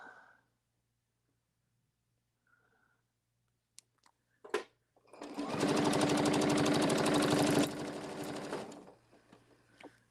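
A sewing machine stitching fabric runs in one steady, rapid whirring burst of about three seconds after a few brief clicks, then slows and stops; close and loud against an otherwise quiet room.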